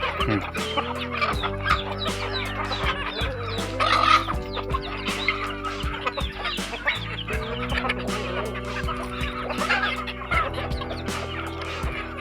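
Several chickens cluck and squawk close by while pecking at scattered food scraps, overlapping calls in an irregular busy chatter with a louder burst partway through.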